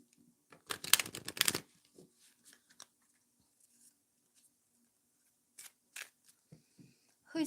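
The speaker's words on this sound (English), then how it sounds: "So let's shuffle some cards from the Archangel Michael Oracle deck." An Archangel Michael Oracle deck is shuffled in a quiet room, a quick burst of riffling cards lasting about a second, followed by scattered soft taps and card handling.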